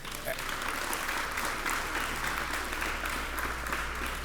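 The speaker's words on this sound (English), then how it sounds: "So let's give him a round of applause." An audience applauds at a ribbon cutting ceremony for a community center, steady clapping from a sizeable crowd sustained evenly throughout.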